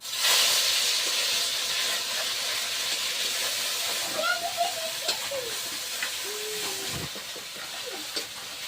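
A ground paste of onion, garlic and green chili hits hot oil in a pan, giving a loud initial hiss that settles into a steady sizzle with scattered pops and faint background voices and sounds.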